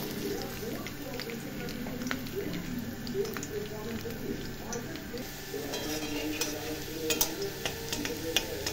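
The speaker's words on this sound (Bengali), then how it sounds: "তেলটা গরম হয়ে গেছে, এখন এর মধ্যে আমি রসুনগুলো আগে দিয়ে দেব।" Garlic frying in hot oil gives a continuous crackling sizzle with occasional sharp pops, heard close and moderately quiet while a voice talks over it.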